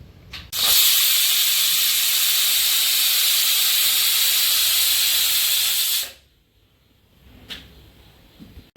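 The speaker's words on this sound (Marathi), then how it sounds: "बघा आपल्या कुकरच्या दोन शिट्ट्या मोठ्या पावरच्या" A pressure cooker on high flame, cooking a cluster bean curry, lets out one long, loud, steady steam whistle lasting about five seconds, then cuts off abruptly, leaving near silence with a few faint clicks and hisses.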